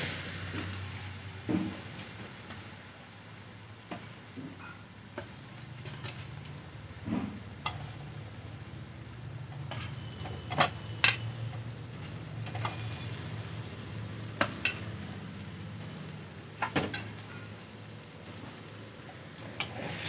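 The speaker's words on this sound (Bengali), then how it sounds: "আলুগুলো দিয়েও আমি আরও কিছুক্ষণ খুব ভালো করে কষিয়ে নেব" Fried potatoes get stirred into spiced masala for an egg curry, a soft continuous sizzle with occasional light clicks and scrapes of the spoon against the pan.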